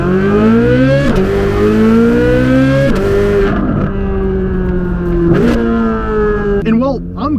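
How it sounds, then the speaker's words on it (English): A loud Chevrolet Corvette Z06 engine accelerates hard, its pitch climbing and dropping sharply with each quick gear shift, four shifts in a row. "it's a tradition that we always do an acceleration here,"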